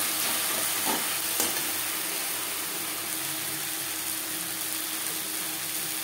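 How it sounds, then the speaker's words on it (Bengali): Onion, tomato, ginger paste and green chilli paste being mixed in a pan, a continuous soft sizzle with faint scraping, steady and fairly quiet, no voices. "পেঁয়াজ টমেটোর সাথে আদা ও কাঁচা লঙ্কা বাটা বেশ ভালো করে মিক্স করে দেবো।"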